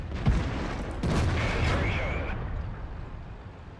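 Tank cannon fire in World of Tanks, aimed at a Bat Chat: a sharp boom near the start, then a second heavier blast with a rumbling tail, under a game soundscape with a voice talking over it.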